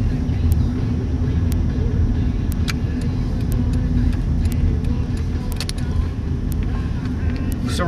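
A Honda Civic with sandbags in the trunk drives along, giving a continuous close low engine and road rumble that holds steady throughout, with a few faint clicks above it.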